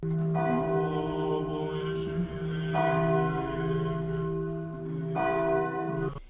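Temple bells ringing as a sound effect in a Hindi horror story, with three resonant strikes spaced a few seconds apart, each sustained and overlapping the last, under a low droning background.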